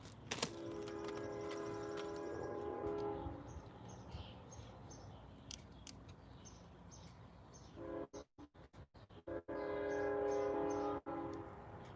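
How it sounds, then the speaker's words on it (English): A Canadian Pacific freight train passes, its horn blowing steadily at first. The rumble of rail cars follows, with clattering wheel noise late in the clip and a bird calling faintly. "That's a Canadian Pacific train."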